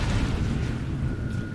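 Grenade blast in the video game Halo Reach, a heavy booming explosion with a deep rumbling body that fills the whole moment and decays slowly.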